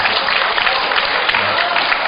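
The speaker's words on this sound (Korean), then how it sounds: "박수 한번 쳐줄까요?" An audience at a youth conference evening service gives a short burst of dense, steady clapping that fills the hall, loud and close, with no clear speech over it.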